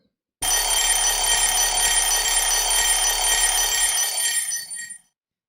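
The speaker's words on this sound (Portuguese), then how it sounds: "O som do despertador" A mechanical alarm clock's bell rings continuously and loudly for about four and a half seconds, a bright metallic jangle that stops abruptly, with near silence before and after.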